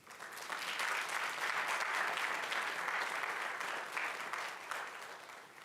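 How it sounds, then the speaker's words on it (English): Steady applause from a large crowd, a dense wash of clapping that holds for several seconds without a break. "Can we give them one more round of applause?"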